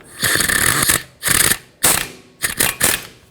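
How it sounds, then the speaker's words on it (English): Ratchet tightening a brake rotor set screw on a 2011-2018 Volvo S60, close, loud bursts of rapid clicking in four separate runs with short pauses between them. "We'll put the set screw in place and we'll snug it up."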